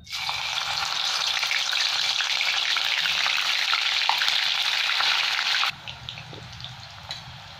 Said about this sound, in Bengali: এখানে আমি ফুলকপিগুলো ভেজে নেবো। তেলটাও ভালো গরম হয়ে গেছে, অল্প অল্প করে দেবো ফুলকপিগুলো।